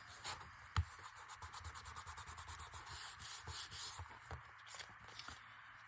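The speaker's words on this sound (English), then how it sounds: "Bit of a rub down." Close, steady rubbing on a Halloween character tag, a soft scratchy back-and-forth stroke repeated in a quick even rhythm, with one sharper knock near the start and no voices.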